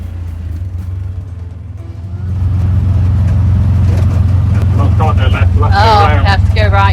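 A tuk-tuk drives past Angkor Wat in Siem Reap, Cambodia: a steady low engine rumble swells louder partway through and carries on alongside wind noise, with a person talking over it.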